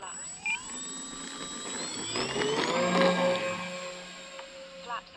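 Electric motor of a Bush Mule V2 RC plane whining at takeoff, a steady buzzing drone that rises in pitch and swells loud midway, then eases, with faint wind noise around it.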